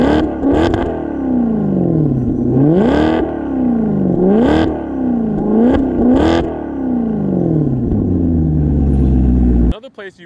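Naturally aspirated engine of a Maserati GT Convertible revved repeatedly, several loud rising-and-falling blips close by with a smooth howling tone, then cutting off abruptly at the end.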